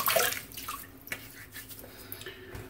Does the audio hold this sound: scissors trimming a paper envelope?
no